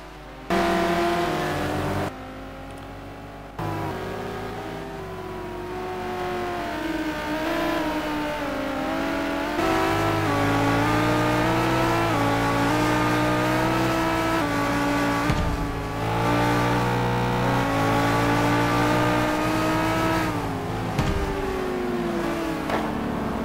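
Race car engines in a sim racing video game on the Aldo Scribante circuit, including a Ferrari F458, drone and rev steadily and loudly with shifting pitch through gear changes. Several cars run close together without a break for the whole stretch.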